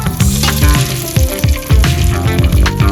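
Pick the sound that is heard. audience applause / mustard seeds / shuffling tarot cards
mustard seeds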